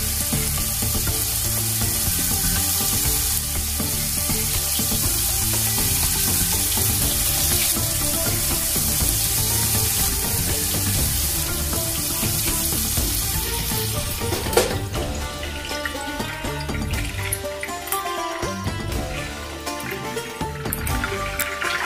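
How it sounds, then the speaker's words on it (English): Bacon and a ham hock fry and brown in a pot for country collard greens, giving a steady close sizzle and crackle throughout with a brief clatter midway and no talking. "make sure your ham hock is browning nicely on both sides, and if you're using bacon, make sure that's browning nicely"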